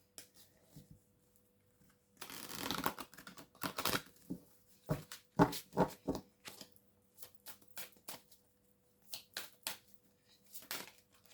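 Oracle cards being shuffled by hand, with irregular bursts of papery riffling and flicking separated by quiet pauses, close and soft, without talking.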